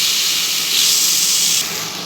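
Water poured into a hot pan of frying radish greens sets off a loud, steady sizzling hiss, swelling briefly and easing slightly toward the end, with no voices.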